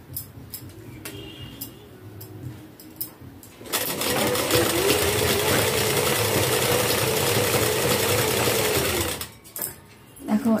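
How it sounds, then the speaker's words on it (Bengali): A sewing machine runs a fast, loud, steady stitching burst along a saree border, preceded and followed by quieter ticking handling sounds. "এখানে জয়েন দিয়ে বসিয়ে এবার এখান থেকে সেলাই মারবো"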